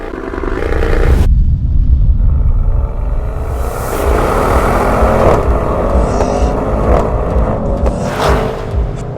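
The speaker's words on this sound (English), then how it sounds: "AMG GT63, launch." A 2019 Mercedes-AMG GT 63 S launches hard from a standstill, its engine roaring loudly and building through the gears with sharp shift breaks, close and sustained throughout.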